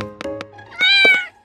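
A cat meows loudly and close, with a short pair of chirps and then a longer drawn-out meow in a quiet kitchen where a mini chocolate cake is being made.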